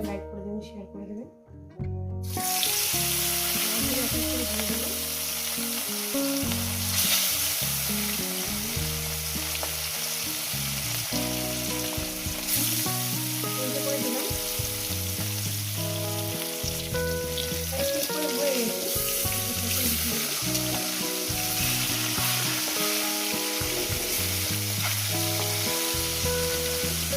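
Pieces of rui fish fry and sizzle in a pan, the hissing spatter steady and close after a short quiet start. Music plays throughout, and someone speaks over it.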